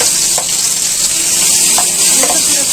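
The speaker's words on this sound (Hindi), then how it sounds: "तो फिर फ्राई करते हैं प्याज।" Onions fry loudly in a pan with whole spices and ground mint, a dense, close sizzle holding steady throughout with a few faint stirring clicks.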